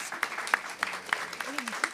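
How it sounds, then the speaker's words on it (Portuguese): A small audience at a lecture on autism gives a brief round of applause for an arriving guest, a thin patter of individual claps at a moderate distance that lasts under two seconds. "Uma salva de palmas"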